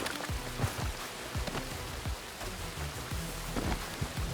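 Steady rain from a thunderstorm in Red Dead Redemption 2, with a constant hiss of falling water and several low rumbles and soft thuds of thunder scattered through it, fairly quiet overall.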